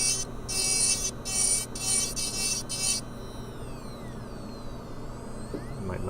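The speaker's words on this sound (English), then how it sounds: "I'm just going to go ahead and remove this sprue with a diamond burr." A dental diamond burr grinding a sprue off a milled screw-retained implant crown, heard as short high whining bursts in quick succession over a steady low hum, then the whine stops and only the hum remains.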